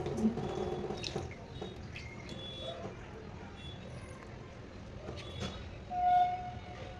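Cleaned shellfish and small fish being rinsed in water several times, a soft continuous wash of splashing and dripping with a brief louder swirl near the end.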